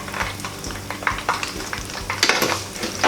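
Korean chicken wings sizzle and crackle in hot oil above 350 degrees during a second crisping fry, a steady close bubbling hiss broken by clinks and stirring knocks.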